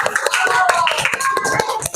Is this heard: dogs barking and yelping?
no